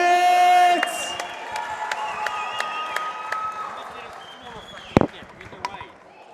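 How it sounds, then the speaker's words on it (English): Applause and cheering from a fight-night crowd greeting two combat athletes after their bout, a dense steady wash of clapping and voices with some whistles, loud at first and then easing, with an announcer's voice over it. "let's hear a warm round of applause for these two Fight Star athletes"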